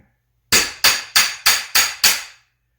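Six sharp, evenly spaced axe chops strike a log while trimming rough parts for a small wooden box, each a crisp, close knock with a short ringing decay.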